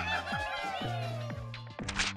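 Sounds from the mobile game Angry Birds play from a phone: squawking, clucking bird calls with sliding swoops and a chuckle-like cackle, fairly close and continuous, ending in a burst of noisy effects.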